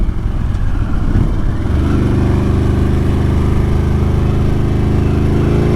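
Harley-Davidson Sportster S engine droning loud and steady on a test ride, rumbling close up with the pitch settling as it cruises; no distinct deceleration pops stand out and no one talks.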